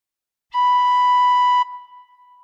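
A single gentle tin whistle note with all holes uncovered, a clear steady pure tone lasting about a second, close and alone, then fading into a faint tail.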